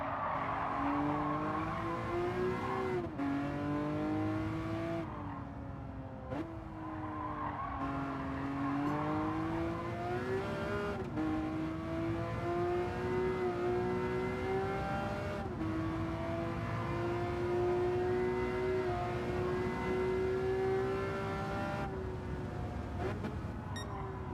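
Race car in Gran Turismo 7 roaring through gears, engine pitch repeatedly climbing then dropping sharply on shifts and braking, loud and continuous with occasional tire squeal.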